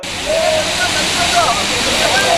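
Water rushes out through the raised shutters of the Kundala dam after heavy rain, a dense continuous roar, with a voice speaking faintly over it.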